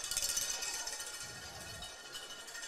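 Cowbell clanged by the home crowd at a high school football game, Maumelle Hornets at Vilonia Eagles, a steady metallic rattle over a broad, continuous stadium crowd roar.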